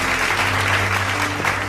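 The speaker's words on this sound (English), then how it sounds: "And as the students and everyone else applaud, just as Carol and Phoebe came in," Students and an audience at a school gathering clap together in a dense, steady burst of applause that stays loud throughout.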